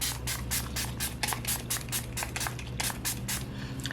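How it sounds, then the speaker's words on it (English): Milani Make It Last setting spray misted onto a face in quick close bursts, a rapid series of short hissing pumps with no talking. "Then I'm going to give my face a spray with my Milani Make It Last."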